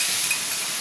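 Masala spices hit hot oil in a pan, producing a brief, close, steady sizzling hiss with no voice over it.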